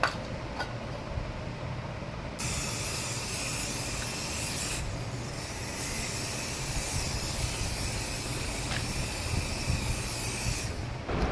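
A hair spray bottle sprays steadily onto a bride's braided hairstyle, a continuous close hiss with brief breaks near two and five seconds, then a final pause before eleven seconds, with no talking.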